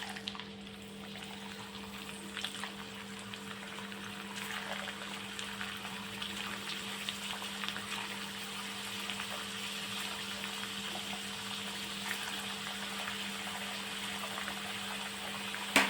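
Potato chips fry in hot oil in a kadhai, with a steady bubbling sizzle that stays fairly quiet and close and continues without pause, with no one talking.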